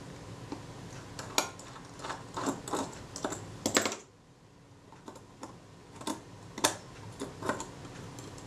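Small metal screws are worked loose on the shutter of a Voigtlander Vitessa T camera, giving faint, close clicks and light ticking taps in irregular clusters with a brief quiet pause partway through.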